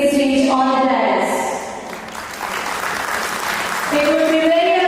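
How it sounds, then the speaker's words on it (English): Audience applause at a stage ceremony as guests are invited onto the dais. A broad burst of clapping swells in the middle, with an announcer's amplified voice speaking before and after it. "a big round of applause"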